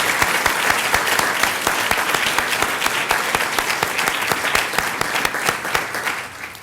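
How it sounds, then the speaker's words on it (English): Steady, fairly loud applause from an audience at a 2011 Upstate Medical University College of Nursing white coat ceremony, honoring post-master's students and registered nurse first assistants, with distinct individual claps rising above the continuous wash. "Let's give the postmasters and registered nurse first assistant a round of applause."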